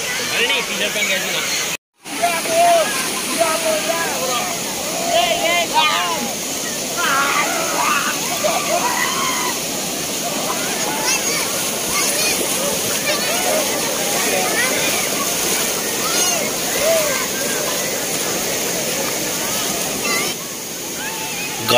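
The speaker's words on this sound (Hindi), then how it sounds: "ऊपर से देखिए झरना देखिए आप एकदम ब्यूटीफुल" A waterfall near Haridwar pours and splashes into foaming water, a loud continuous rushing roar, with people talking and calling out over it throughout and one brief dropout early on.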